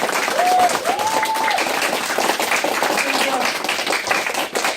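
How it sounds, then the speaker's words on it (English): Children and adults at an elementary school American Revolution walk-through event give a round of applause, close, busy clapping mixed with voices talking over it, a few whistle-like tones rising briefly near the start. "round of applause for everyone"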